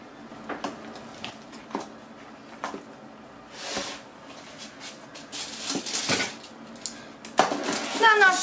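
Cheese filling for a traditional Kraków cheesecake is stirred in a bowl, with scattered scraping and clinking of a utensil against the dish in separate bursts, while a voice talks intermittently nearby.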